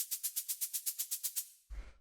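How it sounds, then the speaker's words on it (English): Synthesized shaker made in Ableton Operator plays about twelve crisp, evenly spaced bright hits, then stops, followed by a brief low thump. "Next sound we have here is this operator shaker sound"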